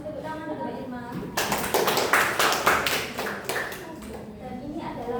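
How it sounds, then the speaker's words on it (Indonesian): Classmates in a microteaching practice class give a short burst of clapping for a student, lasting about two seconds between stretches of talk. "tepuk tangan untuk Irma"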